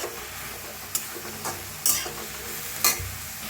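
Flat ghevda beans roast in a little oil in a pan, giving a steady soft sizzle with a few sharp scraping stirs spaced through it, close and fairly quiet.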